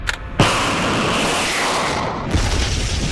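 A compact rocket sled ignites with a sudden sharp blast and then a loud, sustained roaring thrust, and a second surge of roaring kicks in near the end as another stage fires.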